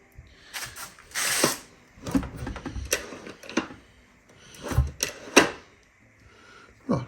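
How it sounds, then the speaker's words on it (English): The propeller of a Yamaha 15HP outboard motor is turned by hand and shifted into reverse, giving a string of close mechanical ratcheting clicks, gear clunks and rattles at an uneven pace, with no voices. "I'll turn the prop a bit. There we go, reverse."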